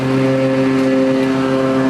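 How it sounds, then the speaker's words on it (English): A small engine drones steadily with a buzzing hum nearby. It sounds like a lawn mower running outdoors, with no voices. "my brother's mowing the lawn"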